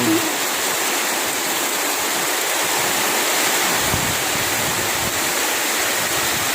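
Strong typhoon wind roars as a constant, loud, broadband rush with no letup, close and enveloping, with faint low rumbles and a hint of voices underneath.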